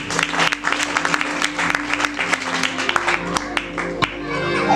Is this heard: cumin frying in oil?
no